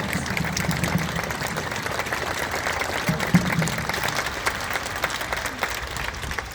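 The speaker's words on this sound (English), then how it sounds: "Folks, just a hand clap for these folks that organize this event" Outdoor crowd applause at a London, Ontario gathering honouring George Floyd, a steady wash of clapping sustained throughout with a low rumble beneath, moderately loud and fairly distant.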